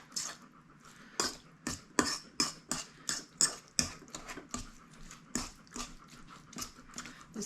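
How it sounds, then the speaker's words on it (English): A dog pants heavily nearby, rapid rhythmic breaths in irregular bursts, with a few clinks in the background. "You're breathing awful hard."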